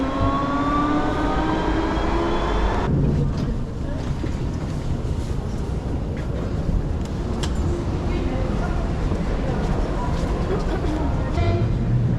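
A Toulouse metro train pulls into François Verdier station, a steady loud rumble with a fading high whine at first, while voices and station sounds carry on over it.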